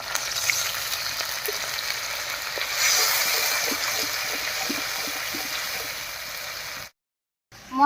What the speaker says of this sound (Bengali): এর উপরে দিয়ে দিচ্ছি একটুখানি মশলা বাটা জল